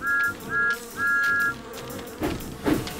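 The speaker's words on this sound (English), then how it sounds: "The bees were still buzzing, but Thomas didn't mind." A thin, steady buzzing hum rises and falls in three short drones, then gives way to softer rustling and clicks, close and fairly faint.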